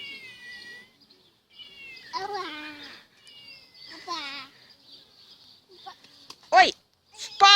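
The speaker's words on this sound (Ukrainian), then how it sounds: "А покажи мені кицю, як вона каже мяу." A toy cat gives several high, drawn-out meows between pauses, the last ones louder and closer, while a voice sounds in between.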